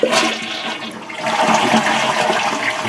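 A household toilet flushes to drain its tank, giving a loud, close rush of churning water that swells and carries on steadily for a few seconds.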